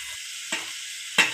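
Vegetables frying in a pan with mint and coriander for a multi-vegetable biryani: a steady soft sizzle underneath, broken by two short scraping stirs, close and with no voices.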